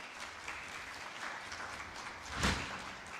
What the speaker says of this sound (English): Can we thank him with a round of applause?